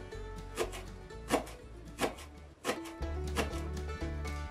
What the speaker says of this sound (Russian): я нарезаю здесь укроп.